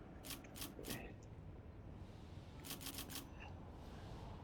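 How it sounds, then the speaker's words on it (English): Clicky typewriter-style interface sound effect from the strategy war game Conflict of Nations, heard as two quick bursts of sharp keystroke-like ticks over a steady low background hum. "I like the typewriter sound."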